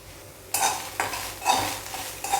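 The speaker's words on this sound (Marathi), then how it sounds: "हे आता मी भाजून घेते एक दोन पाच दहा मिनटं बारीक गॅस करून" Pavta field bean seeds roasting in a pan over a low flame, stirred in several distinct scraping strokes about half a second apart, close and clear.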